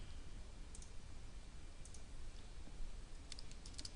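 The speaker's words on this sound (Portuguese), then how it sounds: "Posso estar digitando aqui também." Quiet, irregular clatter of typing on a computer keyboard, light clicks in short bursts with pauses, alone at a modest distance.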